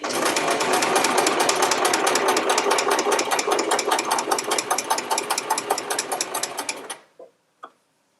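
A sewing machine stitches a quilt with a fast, steady needle rhythm, close and loud for about seven seconds, then stops abruptly, followed by two brief clicks as the handwheel or presser foot is moved.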